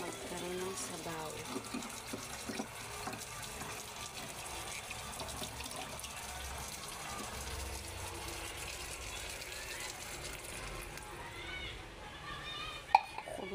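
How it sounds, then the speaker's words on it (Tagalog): Water runs from a tap, filling a pot to make broth for a simple budget lunch, a continuous splashing gush that sits under ongoing talk. "Bigyan natin ng tubig para magkaroon ng sabaw."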